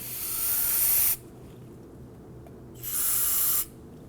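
Two bursts of aerosol brake cleaner spray hiss at close range to flush old grease from front brake parts on a 2008–2011 Ford Focus, the first about a second long, then a pause, then a shorter second burst.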